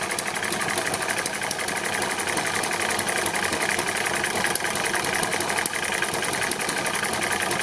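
A small hit-and-miss engine running steadily with a loud continuous chugging drone and rattly mechanical knocking as it fires and skips, close by, with no voices.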